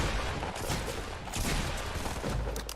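Pump shotgun gunfire in Fortnite, a dense run of loud close blasts with other gunfire layered in, forming a rapid chaotic volley.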